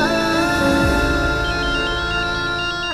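A phone ringtone plays a loud, steady electronic melody with sustained tones, filling the whole short stretch with no talk over it.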